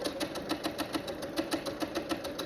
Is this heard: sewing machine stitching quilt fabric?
yes